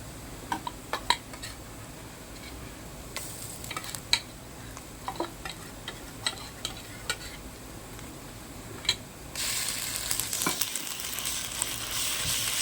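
Ginger garlic paste frying with onions in a pan while cooking chicken sukka, a steady close sizzle under repeated spoon stirring and scraping clicks, with the frying hiss swelling louder near the end.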